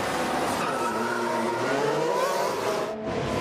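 Formula 1 race cars on the penultimate lap of the 2017 Chinese Grand Prix whine and rev steadily, with engine pitch rising and shifting as they pass, loud and continuous with no talk.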